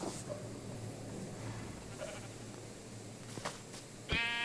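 A sheep in Minecraft survival mode bleats in a short wavering call near the end, preceded by a few faint game sounds over a quiet background hum.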